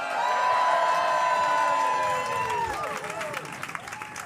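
A comedy club audience cheers and applauds loudly, the whoops and clapping fading out over a few seconds.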